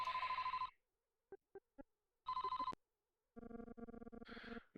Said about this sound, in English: Oh, we got a phone call.